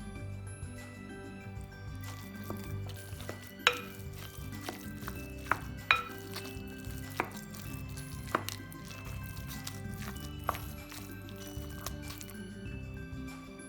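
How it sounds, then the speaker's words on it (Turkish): A spoon stirs roasted carrots into well-mashed potatoes for a potato salad, making soft squishing and scraping with a few light clinks against the bowl, steady and close throughout, with no voices. "iyice ezdiğimiz patateslerimizin üzerine kavrulan havuçlarımızı da ilave edelim. Onlarla da güzelce karıştıralım."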